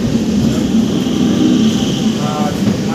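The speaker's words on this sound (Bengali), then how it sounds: "এই যে কল্যাণী থেকে ছাড়লো ট্রেন এই মাত্র" A train pulling out of Kalyani station passes close overhead, giving a loud, steady rumble with a low droning hum and higher rail noise throughout, with faint voices mixed in.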